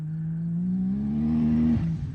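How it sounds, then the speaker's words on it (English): Turbocharged, nitrous-fed Can-Am X3 engine revving hard and close, a loud sustained rising drone with a screaming turbo whine over the exhaust, then dropping off abruptly near the end. "that turbo's so loud"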